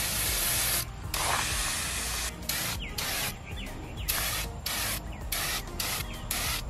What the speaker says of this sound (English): I feel like it's like a pressure washer